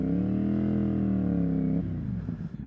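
A CFMOTO 450SS motorcycle fitted with a Yoshimura slip-on exhaust holds a steady, loud, close engine note while riding off, then the sound drops and fades away.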